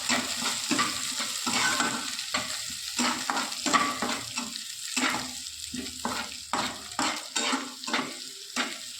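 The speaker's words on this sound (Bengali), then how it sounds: "এবার লাল করে আমি ভেজে নেব। এবার আমি লঙ্কা দুটো ফোড়নে দিয়ে দিই।" Sliced onions browning in hot oil with two chillies added as tempering, sizzling steadily up close while a spoon repeatedly stirs and scrapes the pan in an irregular rhythm; no voices.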